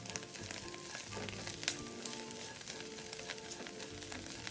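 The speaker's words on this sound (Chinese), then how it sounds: "接着將臘腸也炒一炒，" Chinese sausage stir-frying in a hot wok, a steady dense sizzle with soft scraping and stirring noises throughout, no voices.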